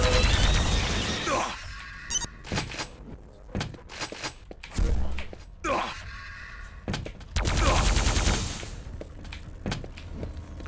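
Gunfire and weapon blasts in Quake 3 Arena deathmatch on the DM9 map: several loud, sharp broadband bursts separated by short clicks and lulls, with no clear speech over them.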